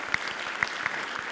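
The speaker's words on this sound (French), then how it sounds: "Donc, il faut l'applaudir." Applause from the audience at an association general assembly during a world congress of women entrepreneurs, steady clapping sustained throughout with a few sharper claps standing out.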